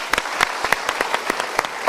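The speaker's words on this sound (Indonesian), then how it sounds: "Good, kita berikan tepuk tangan." Studio audience applause at a motivational talk show, a brisk run of sharp, overlapping hand claps that stays fairly steady and close for the full two seconds, with no speech over it.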